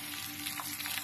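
Sunny-side-up egg frying undisturbed in a pan, a steady close sizzle with soft crackling pops throughout, no talking.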